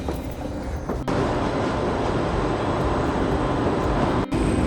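A TGV high-speed train at Basel station, a loud, steady broadband rumble with brief dips, close and continuous, without voices.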